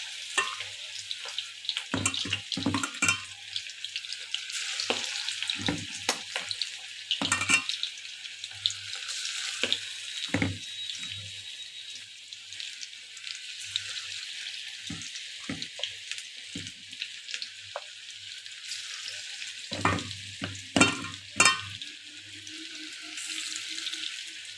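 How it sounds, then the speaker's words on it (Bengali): Chicken pakoras fry in a kadai with a steady, moderate sizzle, broken by sharp clinks and scrapes as pieces are dropped in one by one. "এবার দেখো চিকেনের টুকরোগুলো দিয়ে দিচ্ছি কড়াইতে এক এক করে।"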